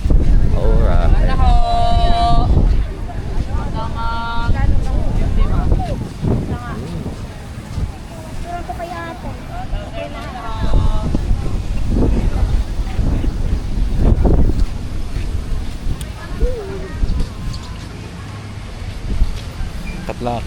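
Steady roaring wind buffets the microphone outdoors at Bulabog Beach, Boracay, while people talk over it, a constant rushing noise throughout.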